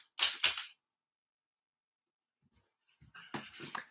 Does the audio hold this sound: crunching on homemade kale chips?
no